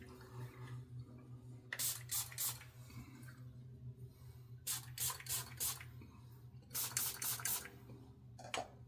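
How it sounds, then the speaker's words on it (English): Citrus aftershave splash is slapped onto a freshly shaved face in three close bursts of wet splashing and patting, with quiet pauses between them. "Time for the splash."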